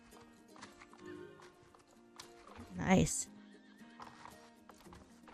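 Horse clip-clop hooves and a loud whinny in a western-themed video game, the neigh peaking briefly mid-clip among soft game sounds, with a person speaking briefly.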